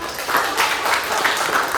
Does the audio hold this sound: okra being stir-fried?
no